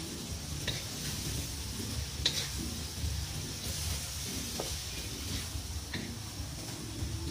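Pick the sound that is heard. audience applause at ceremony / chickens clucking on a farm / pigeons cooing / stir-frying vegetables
stir-frying vegetables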